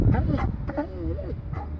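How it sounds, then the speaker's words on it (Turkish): A tethered guest dog at a rural plot gives a short whimpering bark and yip, close to the microphone and brief, with low rumbling background noise. "Amcaoğlunun köpeği."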